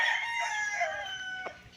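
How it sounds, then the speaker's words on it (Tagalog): A rooster crows once nearby on a farm in Lucban, Quezon, a drawn-out strained call that trails off, with faint background noise. "May alagang mga manok yung caretaker dito."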